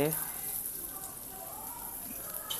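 Black pepper, cumin and fenugreek seeds frying in a pan for a fish sukka, a steady close sizzling hiss that carries on throughout, with a voice speaking over it.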